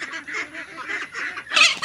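Farm ducks and chickens at feeding time, part of a flock of about 300, give a short burst of close, nasal honking and quacking calls, rising at the end, with no talking.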